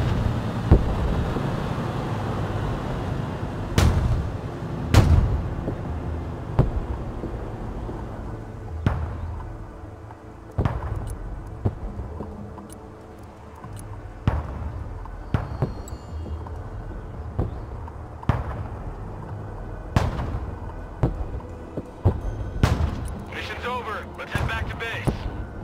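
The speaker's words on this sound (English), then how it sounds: "laying consistent barrages towards the last known enemy locations" Artillery barrages in the video game Broken Arrow: repeated sharp booms land every second or two over a steady low rumble, some close and loud and others more distant, with voices mixed in underneath.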